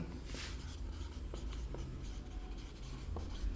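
Pen writing notes by hand during a civil engineering lecture on railways, a steady scratchy scrawl over low room hum, with strokes continuing throughout and no voice.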